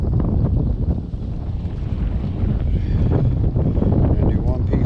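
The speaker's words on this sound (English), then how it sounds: "bear with the wind" Strong wind buffets the microphone on a river bank, a loud, continuous low rumble with gusting swells throughout.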